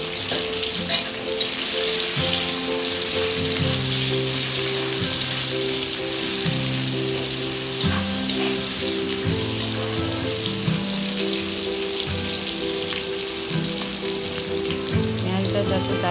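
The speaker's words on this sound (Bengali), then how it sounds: "গোটা গরম মশলা দিয়ে দিচ্ছি পেঁয়াজ পেঁয়াজটাকে ভালো করে লাল লাল করে ভেজে" Onions fry in oil with whole garam masala and bay leaves for a spicy chicken curry, giving a loud, continuous crackling sizzle with background music underneath.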